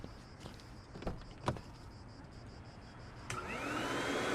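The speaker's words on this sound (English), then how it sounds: "Let me get his vacuum." A vacuum cleaner in a car wash video game starts up after a few clicks and knocks, then runs as a rising, steady whine that grows louder toward the end with no one speaking.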